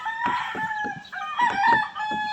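An Allen Gray gamefowl rooster calls nearby in several drawn-out, strained crows and clucking bursts. Another faint crow comes from farther off.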